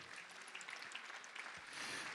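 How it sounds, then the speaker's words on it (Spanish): A church congregation applauds during a sermon, a soft, even patter of clapping from many people heard at moderate distance, swelling a little near the end without speech on top. "Dale un aplauso al Señor."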